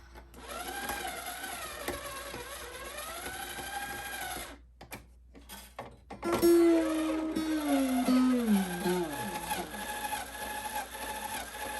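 A battery-powered guitar string winder whirs with a high, buzzing motor tone on a 1943 Gibson L-0 acoustic, running steadily, stopping in a short gap, then resuming with the pitch sliding down as the string tightens under load.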